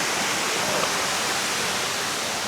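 Batlag Falls pours in a steady, loud, broadband roar of falling water that fills the whole moment, with no voices over it.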